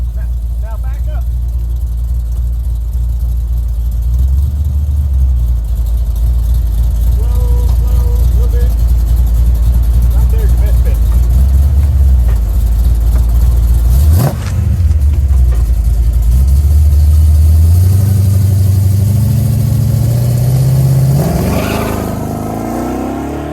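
A drag car engine revs hard and loud through a burnout, holding a heavy roar that climbs in pitch toward the end. A man calls out instructions over the engine.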